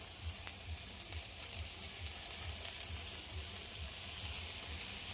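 Cabbage and soaked chickpeas fry quietly in a pan, a soft even sizzle with faint stirring and a low rhythmic thump underneath, no voices.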